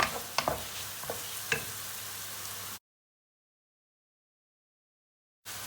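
Mushrooms sautéing in a pan for a chicken dish, cooking down until caramelized: a soft sizzle with a few sharp utensil clicks and stirring scrapes for under three seconds, then sudden silence before the sizzle briefly returns at the end.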